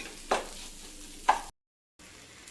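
Okra stirred with a coarse ground chili paste in a pan: two short scraping stirs over a faint sizzle, a brief silent gap, then the quiet frying resumes.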